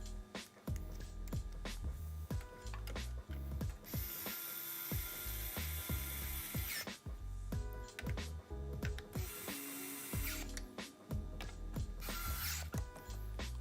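Ratcheting, whirring electric screwdriver tightening screws during a PC build with a Phanteks Evolv Shift XT case, in repeated close bursts of clicking mechanism and motor whine with brief gaps.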